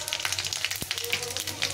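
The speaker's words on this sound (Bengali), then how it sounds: "পাঁচফোড়নটা একটু ভাজা ভাজা করে নিতে হবে।" Panch phoron spices fry in hot oil in a pan, giving a close, continuous crackling sizzle with quick popping spits throughout.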